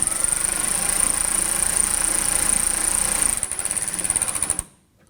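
A lightweight power tool tightens the last rear mud flap fastener on a 2016-2023 Toyota Tacoma, running as a loud, steady, buzzing rattle for about four and a half seconds before cutting off abruptly.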